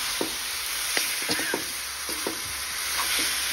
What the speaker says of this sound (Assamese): মাংসখিনি এতিয়া ধুনীয়াকৈ ভাজি লওঁ আৰু মিলাই মেলি